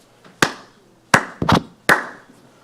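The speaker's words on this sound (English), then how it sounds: "I clap because I have learned when people put on a good show, that is what you do. Applaud." A single person clapping hands during a public parliamentary meeting: four sharp, separate claps with short gaps, close and clear in an otherwise quiet room.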